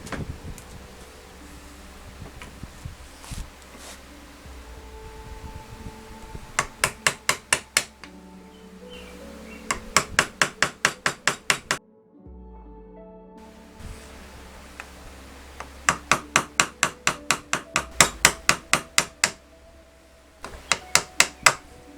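Hand-cutting a maple dovetail drawer joint, with quick bursts of sharp rhythmic strikes, likely chisel and mallet work, repeated in clusters with short pauses between, close and clear.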